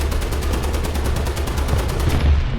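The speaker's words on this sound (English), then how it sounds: "Machine gun, there we go." Rapid machine gun fire in War Thunder, a dense continuous burst of evenly spaced shots, loud and close, from an M13/40 Serie II tank engagement.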